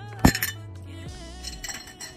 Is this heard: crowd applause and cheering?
no